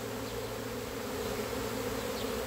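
Honeybees from a captured swarm buzz in a low, steady drone that holds constant throughout, fairly quiet with no voices.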